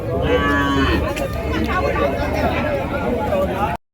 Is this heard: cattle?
yes